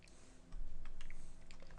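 Quiet, close tapping on a computer keyboard, with a quick run of light keystrokes over faint room noise.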